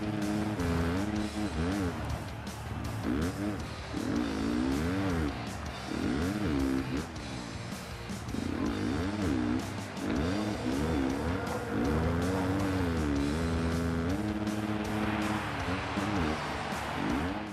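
A dirt bike engine in the Monster Energy Supercross video game revs hard through a wheelie, its whining pitch sweeping up and down over and over with a steady, loud drone beneath.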